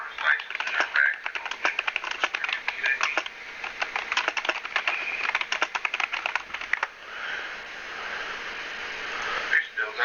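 Fingers tap out quick irregular bursts on a computer keyboard, close and crisp, with a brief pause before a final flurry of keystrokes.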